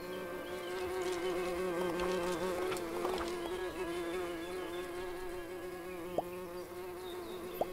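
Bees buzz in the video game Everdream Valley, a steady, close droning hum with wavering tones that continues without a break, joined by a couple of faint clicks near the end.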